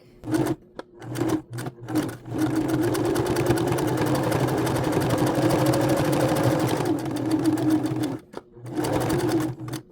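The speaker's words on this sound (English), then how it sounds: "So the first thing we're going to do is sew down this side to trap the elastic." Sewing machine stitching down elastic on a fox fur headband, a few short starts then a long steady run of rapid mechanical hum and needle clatter, close and loud, stopping and restarting briefly at the end.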